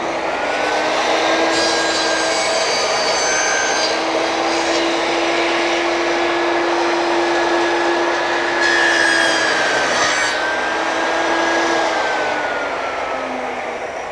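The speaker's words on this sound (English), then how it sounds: "Make your first cut on face A and your second cut on face B" A power saw on a Triton work centre cuts moulding, a loud steady whirring drone with brief rises in pitch as the blade bites through the wood, running alone without talk.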